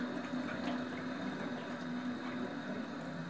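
Tap water runs steadily from a kitchen faucet while vegetables are scraped under it, a continuous hissing stream at low level with faint scraping textures.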